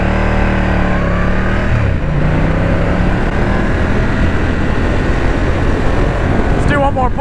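A Ducati Diavel 1200cc sport bike pulling hard at full throttle, its engine roaring loud and close with a steadily climbing pitch and a brief shift dip, wind rush blended throughout.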